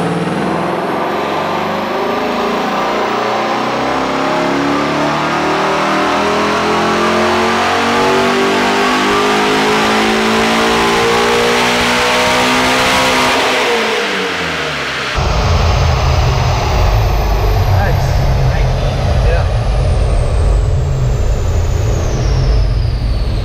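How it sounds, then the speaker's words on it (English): A Ford Mustang GT350 running E85 flex fuel roars on a dyno, its engine climbing steadily through a long, loud wide-open-throttle pull before the tone abruptly shifts to a harsher, lower drone; no voices. "So let's dive in with no further ado, the dyno run."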